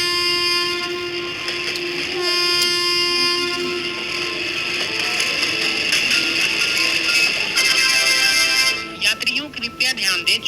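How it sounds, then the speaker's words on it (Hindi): A train pulls out of a station in a cartoon scene, with a loud steady rumble of rolling wagons, a sustained tonal horn, and scattered clicks toward the end as it moves off. "तभी ये ट्रेन यहाँ से जाने लगती है"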